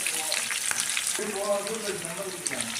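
Onion, garlic and ginger sautéing in a hot pan, giving a steady loud sizzle with stirring scrapes throughout while someone talks over it.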